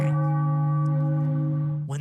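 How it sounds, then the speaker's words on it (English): Celebration bell rung after a Phillies win against the St. Louis Cardinals in a baseball video game, a steady ringing bell tone sustained for about two seconds, loud and close. "Ring the bell again."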